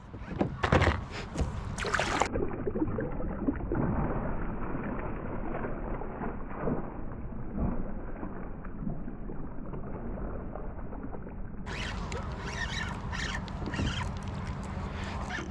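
A kayak moving on quarry water with steady wind noise and soft paddling and splashing sounds, and bright bursts of wind at the start and the end.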